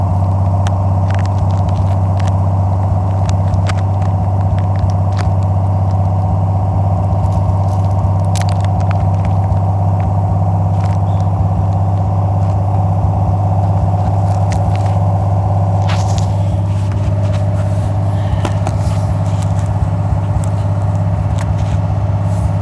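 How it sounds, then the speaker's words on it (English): A 1978 Chevy Nova V8 idles after a cold start, its exhaust giving a steady, loud low rumble with a constant drone and occasional small pops and clicks, close by and without talk. "Do an exhaust clip for you guys too."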